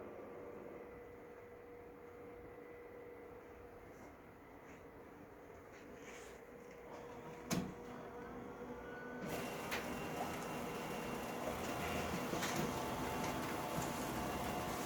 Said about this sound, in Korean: 프린터 출력을 해보도록 하겠습니다.